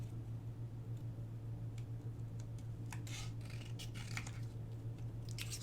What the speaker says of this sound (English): they're Fiskars Spring Assist scissors